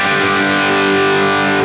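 Electric guitar played through a Marshall Super Lead Plexi, treble channel jumped, a dense raucous distorted chord sustained loud and steady throughout, alone without voices.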